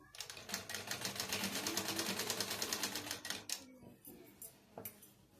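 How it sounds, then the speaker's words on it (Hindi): A sewing machine runs along the edge of a blouse sleeve in a fast, rhythmic stitching burst of about three seconds, followed by a few short stops and starts, close and fairly quiet. "वहीं से हम लोग आस्तीन को रखेंगे और किनारे किनारे सिलाई लगाते जाएंगे इस तरीका से।"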